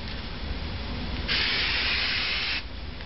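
A steady hiss of an aerosol can spraying for just over a second against quiet background noise.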